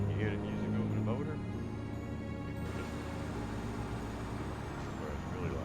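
Truck engine droning steadily in American Truck Simulator played on a Moza R3 wheel, a low continuous rumble with radio music mixed over it and someone talking through much of it.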